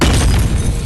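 A golden gun in the VR video game Animal Company fires with one loud, heavy boom that fills the whole short moment.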